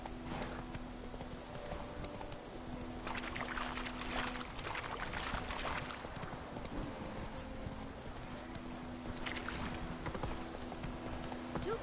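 Horse hooves clip-clopping at a steady trot in The Witcher 3 video game, continuous and fairly close, with in-game ambience and a soft hum underneath.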